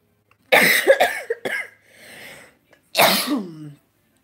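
Several harsh, close coughs in uneven bursts, a brief breathy pause between them, then one more strong cough before silence.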